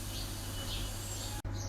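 Cicadas sing in a Nilgiris forest, a steady dense high-pitched buzzing drone with faint chirps over a low hum, continuous and fairly quiet until a sudden brief dropout near the end.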